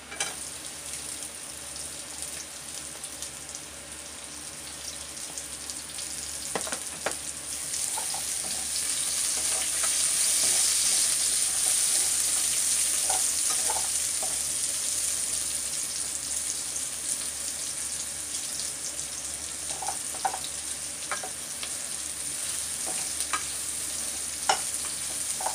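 Onion sizzles and fries in a pan for ginisang monggo, a steady bright hiss with occasional stirring scrapes, close and even throughout.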